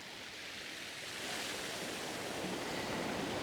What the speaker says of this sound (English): I don't want the water coming in this far because it's moving the tripod slightly